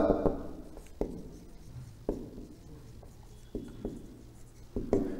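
A pen moves across paper while writing an answer, giving soft scratchy strokes with light taps at the start of each stroke, close and quiet, about five distinct strokes in a steady rhythm.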